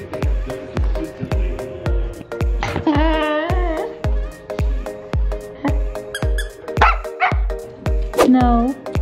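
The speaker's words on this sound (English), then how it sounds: "we'll end this video with a little look at the dogs playing with these mice" Corgis playing with toy mice, with repeated short yips and barks in a quick rhythm alongside higher whines and squeaky tones, close and fairly loud throughout.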